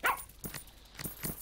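A dog in the garden video game Plantera gives a few short, sharp barks and yips spaced across a moment, fairly close and clear with no talk over them.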